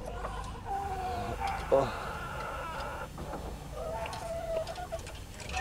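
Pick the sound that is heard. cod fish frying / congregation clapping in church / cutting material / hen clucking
hen clucking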